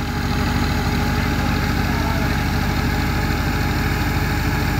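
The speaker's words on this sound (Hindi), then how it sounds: "ट्रैक्टर का साउंड आ रहा है वहाँ पे" A tractor engine chugs steadily nearby during wheat threshing, a loud, low, rhythmic diesel thrum that holds constant throughout.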